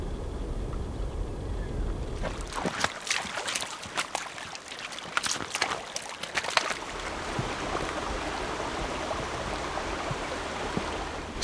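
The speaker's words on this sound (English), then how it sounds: "So we just crossed the creek" Footsteps wade and splash through a shallow creek on a Wyoming public-land elk hunt, a running stream rushing steadily around them with a burst of close sloshing in the middle.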